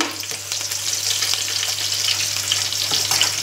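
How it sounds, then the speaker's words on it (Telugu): Green chillies and curry leaves fry in hot oil, a close, lively crackle and sizzle with small pops and a few stirring scrapes running throughout, alone without any speech. "ఆయిల్ మరిగే ఉంది కదా, పచ్చిమిరపకాయలు వేసాను. ఫస్ట్ కరివేపాకు కూడా వేస్తున్నామండి. కొంచెం ఫ్రై అవ్వనిద్దాం."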